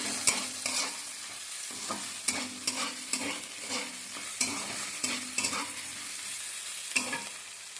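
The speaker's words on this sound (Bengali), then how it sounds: "দিয়ে আমি বেগুনগুলো ভালো করে ভেজে নেব" Eggplant pieces with salt and turmeric frying in oil, a close, steady sizzle under repeated scraping strokes of a spatula stirring in the pan.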